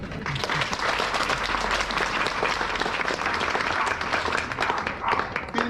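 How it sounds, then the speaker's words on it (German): Warm applause from an audience at an outdoor herb tradition event in Gengenbach, steady dense clapping sustained throughout without a break. "Vielen Dank für den herzlichen Applaus."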